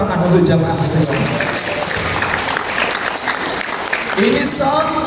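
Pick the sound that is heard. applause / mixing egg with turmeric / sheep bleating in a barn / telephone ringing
applause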